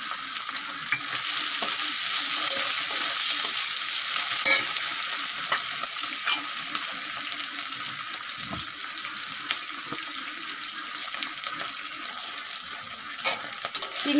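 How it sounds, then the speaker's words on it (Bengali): Shrimp coated in salt and turmeric, with slit green chillies, sizzle steadily in a hot pan of oil for a Bengali taro-leaf dish, a continuous close frying hiss with occasional light stirring clinks and no talking. "এখন নুন হলুদ মাখা চিংড়ি মাছগুলো দিয়ে দেবো।"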